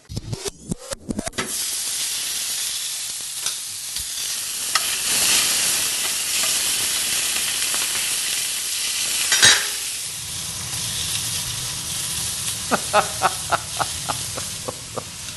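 Italian sausages sizzle steadily in a hot frying pan, a constant crackling hiss with a few clatters and scrapes of a utensil near the end.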